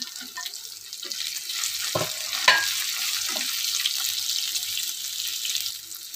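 Chopped onion fries in hot oil with green chillies for paneer chilli. The sizzle is steady and hissing, with a couple of sharp clatters near the middle and no speech.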